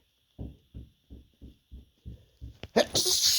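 A series of stifled, tickly sneezes: seven short muffled bursts in quick succession, then a louder, breathier exclamation at the end, with a faint steady high tone running underneath.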